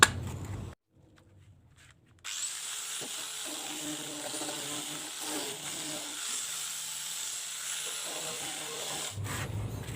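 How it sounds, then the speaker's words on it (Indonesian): A small power grinder fitted with 320-grit sandpaper whirs steadily while sanding a carbon birdcage, with a hissing, buzzing tone and slight variations as it presses on the surface; brief quiet at the start. "Kita menggunakan amplas 320 pakai mesin gerinda ya."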